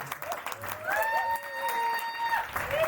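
Scattered applause from an audience at a student dormitory event honoring Quran study division members, brief and moderate, with a tonal voice or chant rising over the clapping.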